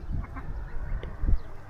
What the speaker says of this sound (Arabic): ده وز ولا صح؟ وز.